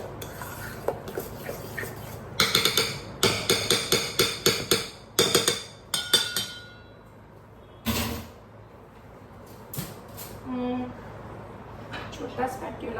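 A small spatula scrapes and stirs chocolate chip banana bread batter in a bowl, a run of close, rhythmic clacks and scrapes, with a person talking in between.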